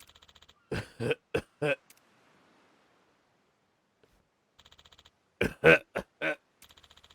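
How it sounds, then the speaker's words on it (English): Several short, harsh coughs from a woman character in Like a Dragon: Pirate Yakuza in Hawaii, in two bursts separated by quiet, with faint electronic blips around them. "Oh, it's a lady. Who's just coughing."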